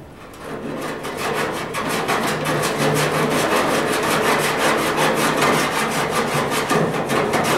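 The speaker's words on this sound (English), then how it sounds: "I'm going to file it down just like regular body work." A hand file rasps back and forth over lead body filler on the fender of a 1934 Ford Coupe, loud close strokes in a steady even rhythm for the whole stretch, with no talking.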